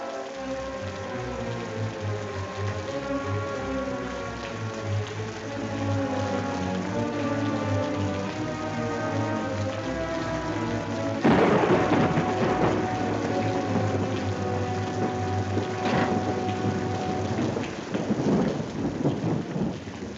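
Steady heavy rain pours down while a deep roll of thunder builds and rumbles loudly, then slowly fades under the downpour.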